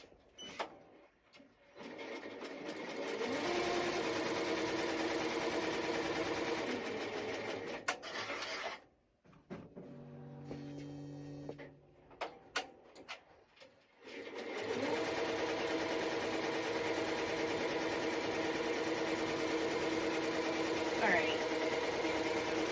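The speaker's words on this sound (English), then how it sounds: "the vinyl is placed and it is stitching out on top" An embroidery machine stitches a glitter HTV reindeer onto a T-shirt with a steady, rapid mechanical chatter. The stitching pauses for a few seconds around the middle and then resumes at a constant close level.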